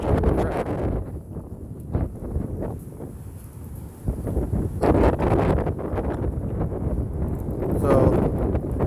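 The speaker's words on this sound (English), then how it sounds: "it's going to be really, really windy" Strong coastal wind at Sutro Heights buffeting the microphone in loud, continuous roaring gusts, with trees nearby and the beach below.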